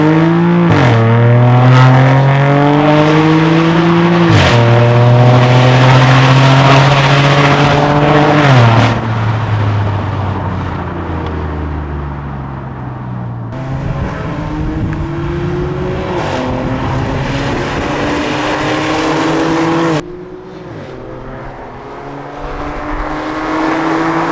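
An Audi A5 3.2 V6 engine revving hard through acceleration pulls, loud and close, the pitch sweeping up through each gear before dropping at the shifts, with a deep rumbling exhaust.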